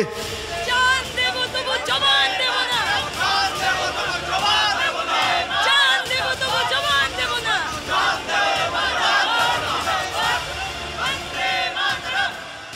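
Crowd of language movement protesters in Silchar chanting slogans, loud massed voices rising and falling in rhythmic shouted bursts, continuous and close throughout.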